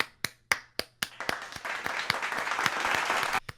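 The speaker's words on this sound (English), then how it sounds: "round of applause. Where's my clapping thing?" A canned applause effect played by a podcast host: a few sharp separate claps speed up into a dense burst of clapping that runs steadily and then stops abruptly, fairly quiet and close.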